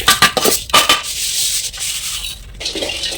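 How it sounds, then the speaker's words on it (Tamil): Moong dal roasting in oil is scraped and stirred nonstop in a pan, with rhythmic rubbing strokes and scrapes repeating close by, then a steadier hiss of frying between strokes. "பாசி பருப்புக்கு எண்ணெய் ஊற்றி கைவிடாம ஒரே ஈவனா வறுத்து எடுக்கணும்."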